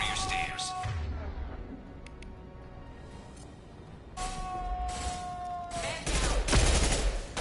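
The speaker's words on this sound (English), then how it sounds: "Firing concussive shot!" Concussive shot fired in Mass Effect 2, loud bursts of combat blasts and gunfire with a tonal hum between volleys, the heaviest hit near the end.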